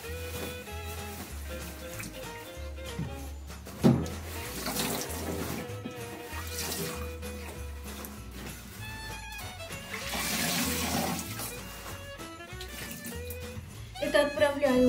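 Tap water runs while a tulle curtain is rinsed, a steady splashing rush that swells and fades over background voices and other household sounds, with a few clunks along the way.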